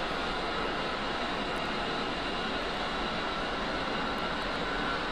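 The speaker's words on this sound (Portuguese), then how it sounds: "O motor esquerdo está subindo." In the DCS World combat flight simulator, the left jet engine spools up as a loud, steady, broadband roar that holds evenly throughout without a break.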